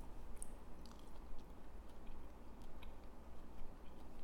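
Fibrous food such as meat is chewed up close: soft, faint, irregular squishing and small clicking bites keep up a steady chewing rhythm with no talking.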